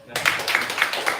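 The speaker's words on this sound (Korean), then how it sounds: "박수." A church congregation claps together during an afternoon prayer-school lecture, giving a short, steady run of rhythmic hand claps at even spacing, moderately loud in a roomy hall.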